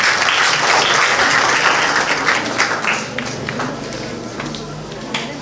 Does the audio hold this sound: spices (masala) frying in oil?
no